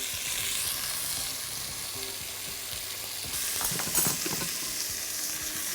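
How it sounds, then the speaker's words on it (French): Monkfish pieces searing in smoking-hot oil in a casserole over high heat, a loud, continuous close sizzle that flares briefly brighter near the end, with no voices. "l'huile commence à être fumante et je pose délicatement mes petits pavés de lotte au fond de la cocotte"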